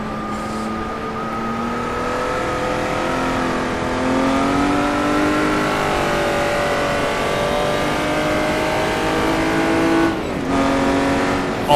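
Jaguar D-type race car engine at Goodwood, a loud, sustained in-car drone that shifts pitch as the throttle is eased and reapplied, with a brief lift near the end.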